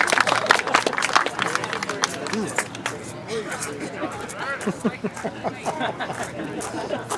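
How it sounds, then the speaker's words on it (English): Outdoor crowd at an autumnal equinox gathering in a Valley City medicine wheel park, clapping in scattered, uneven bursts that fade into ongoing chatter and voices talking. "Clap if you're in for that game."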